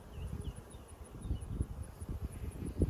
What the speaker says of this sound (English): Man, it's nice to have lots of bees in that hive.